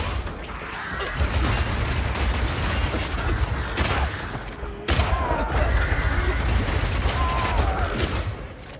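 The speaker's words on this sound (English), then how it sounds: "Being able to run while shooting with Rapid Shot is also great for when you want to perform a fighting retreat." Rapid Shot crossbow fire in the game Path of Exile 2 forms a dense, continuous barrage of rapid shots and impacts, loud and sustained, with a brief break midway before the volley resumes.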